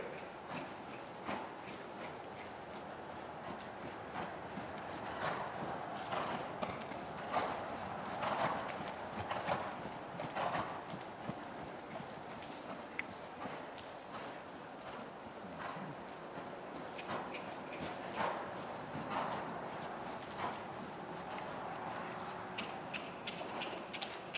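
Horse hooves clip-clop in a steady walking rhythm through a riding lesson, moderately near, with faint ambient noise and occasional soft background sounds.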